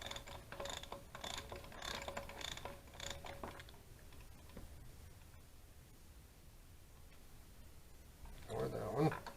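A ratchet wrench breaking bolts loose on the gear drive of a 2008 Yamaha V-Star 1100 trike conversion: a run of clicking ratchet strokes close by, then a quieter stretch, with a short burst of clatter near the end.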